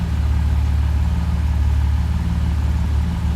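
A 1966 Mercedes 230SL idles steadily and evenly, a smooth, continuous low engine hum held close by throughout with no revs or pauses.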